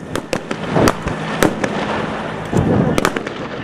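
Sharp cracking gunfire bangs go off in irregular bursts during a commando hostage-rescue drill, several shots close together then pauses, loud against a rumbling background.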